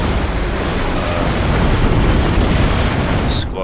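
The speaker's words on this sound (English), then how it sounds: "High explosive bomb kills 2" A high-explosive bomb blast in the WARNO war game: a loud, sustained rumbling roar filling the whole clip with dense low-end energy, easing off near the end.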